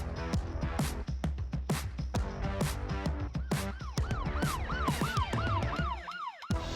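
Police car sirens from a chase wail in repeated rising-and-falling arcs, loud and close, over a steady rhythmic music bed with regular beats.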